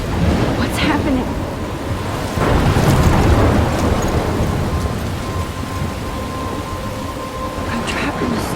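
Rain pours steadily while thunder rumbles in a Life Is Strange thunderstorm, a loud, continuous wash of downpour with deep swelling rolls, growing heaviest near the middle and easing slightly toward the end.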